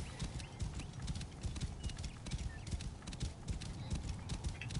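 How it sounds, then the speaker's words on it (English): Horse hooves galloping off-road in Assassin's Creed Origins, a steady, dense run of thudding beats that stays loud and continuous from start to finish with no talk over it. "We're going off-roading in a horse."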